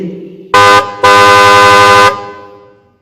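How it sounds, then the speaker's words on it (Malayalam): A car horn honks twice during a street play, a short blast and then a longer sustained one, loud and close, fading out afterwards. "ഒരു കാറിന്റെ ഹോണടിയാണല്ലോ ആ കേക്കുന്നേ."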